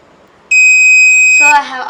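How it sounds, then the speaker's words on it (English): A buzzer wired to pin 13 of an Arduino Uno gives one sustained electronic beep lasting about a second, followed right away by a person talking. "See the buzzer is ringing."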